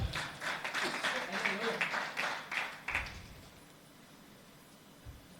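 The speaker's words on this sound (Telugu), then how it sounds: "చప్పట్లు కొడదాం." A church congregation at a Sunday service claps together for about three seconds, a dense, fairly close patter of many hands that fades out into quiet room tone.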